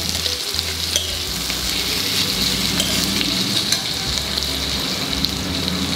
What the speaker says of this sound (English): Saute the onions till they become brown.